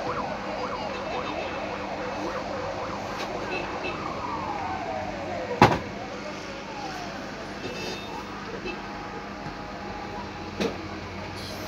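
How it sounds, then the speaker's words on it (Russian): Wailing fire engine sirens rise and fall as fire trucks keep arriving at a huge blaze at Temernik market in Rostov-on-Don, heard amid steady street and crowd noise, with a sweeping siren tone and a couple of sharp knocks. "И, видимо, еще машины подъезжают и подъезжают пожарные."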